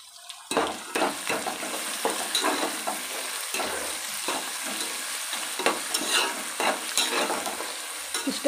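Chopped cabbage tossed and stir-fried in a hot pan for egg fried rice, with a loud continuous sizzle broken by rhythmic scraping strokes of a spatula, close up and with no voices.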